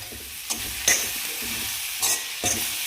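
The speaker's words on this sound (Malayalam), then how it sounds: "ഒരല്പം കൂടെ അങ്ങനെ ഇളക്കിയെടുക്കുക" Cowpea stir-fry (vanpayar thoran) sizzles steadily in a pan while a spoon stirs it, with a few sharper scraping strokes standing out above the continuous frying hiss.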